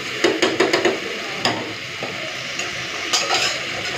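Potatoes stir-fried in spiced oil in a pan, with a steady sizzle under a series of scraping, clinking spatula strokes against the metal, loud and close, no voices.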